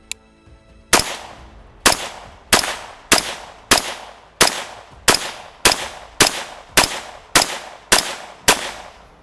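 An ATI Omni Hybrid plastic AR rifle in 5.56 or 300 Blackout fires a dozen loud, sharp shots at a slow, steady pace, each crack ringing briefly before the next.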